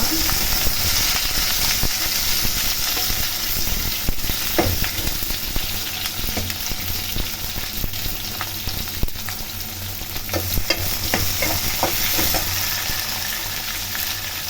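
Onions fry in a pan with mustard seeds and curry leaves, a dense continuous sizzle and hiss up close, broken by occasional stirring scrapes and clinks of a spoon.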